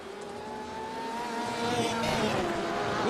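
Race cars in a racing video game run through a Le Mans chicane, engines droning and rising in pitch as they accelerate, with a loud passing surge near the end.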